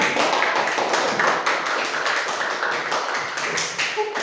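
A classroom group claps continuously for a presenting group, a dense patter of many hands, fairly loud and close, with no clear talking.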